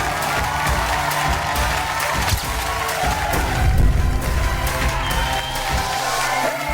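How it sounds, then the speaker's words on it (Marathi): Studio audience at a Marathi women's television show clapping loudly and steadily, with scattered cheers and a swell of crowd noise midway, over a continuous bed of music. "त्या बात एकदा जोरदार टाळ्या"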